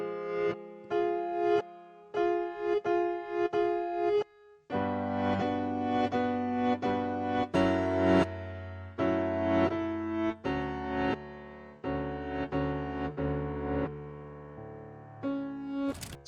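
Ravel VST piano with reverse and length settings turned on, producing notes that swell and cut off, then layered sustained chords building into a dense, shimmering wash, steady and close, with no talking.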